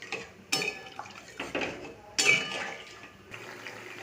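Water pours into a pan of well-fried spice paste for a Bengali katla fish curry, with clattering pan and utensil knocks marking several sharp onsets over a steady liquid wash, close and moderately loud.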